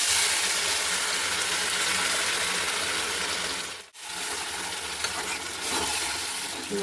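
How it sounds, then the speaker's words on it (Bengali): Spices and dried chillies stir-fried in ghee for chicken rezala, a loud continuous sizzle with scraping stirring strokes, broken by a brief near-silent gap midway before the frying noise resumes, no voices. "শুকনো লঙ্কা ভালো করে নেড়ে চেড়ে ভালো করে কষিয়ে নেবো"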